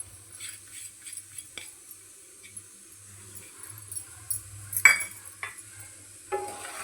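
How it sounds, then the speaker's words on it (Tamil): Semolina (rava) roasts in ghee in a pan over low heat, giving a quiet sizzle with intermittent scraping and stirring clicks of a spoon against the pan. "ரவை வந்து நம்ம கொஞ்சம் வறுத்து எடுத்துக்கலாம்."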